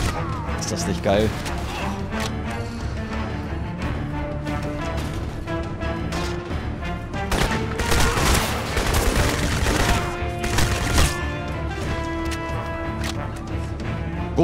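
Crysis game explosions and rapid gunfire-like blasts crash over a dense layer of effects and music, with a big burst of impacts swelling near the middle.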